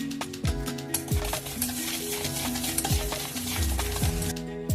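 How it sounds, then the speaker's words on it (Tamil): Eggs and powdered sugar are whisked together in a bowl, a steady rhythmic scraping and clinking of the whisk against the sides, close and continuous with no talk. "ஆட் பண்ணி இதை நல்லா விஸ்க் வச்சு மிக்ஸ் பண்ணி எடுத்துக்க போறோம்"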